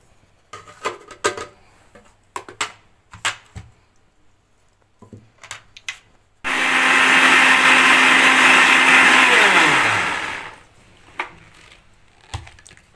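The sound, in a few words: blender blending salad ingredients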